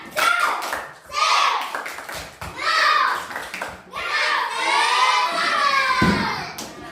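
Classroom of students repeating a rhythmic clap-and-chant routine, sharp patterned hand claps punctuating loud unison children's chanting, ending with a drawn-out shouted call.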